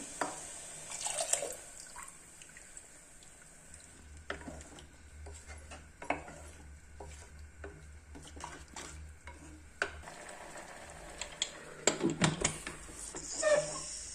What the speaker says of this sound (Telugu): వాటర్ తీసుకునేస్తున్నాము